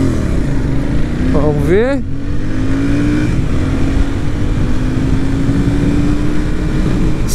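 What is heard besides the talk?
motorcycle accelerating from standstill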